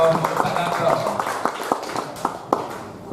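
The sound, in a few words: audience clapping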